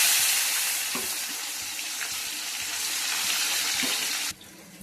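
Onions frying in a wok, a steady close hiss of sizzling oil with a few soft stirring clicks, fading sharply near the end, with no voices.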